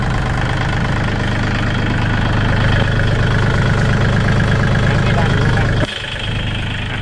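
The original, never-rebuilt engine of a used Kubota L3608 tractor idles steadily with a close, loud, rhythmic diesel clatter, briefly dipping near the end, while someone talks over it.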